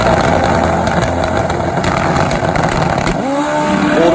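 Loud, steady roar of a turbocharged drag motorcycle engine at a drag race, an older-style funny bike in the far lane, the tone sweeping near the end as the run goes on.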